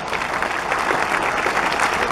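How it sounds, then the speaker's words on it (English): An audience at an evening board meeting breaks into a round of applause, a dense steady patter of many hands clapping that fills the room throughout. "Let's give her a round of applause."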